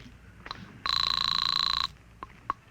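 A field telephone bell rings once in a bright, rapid trill for about a second, with a few faint clicks before and after.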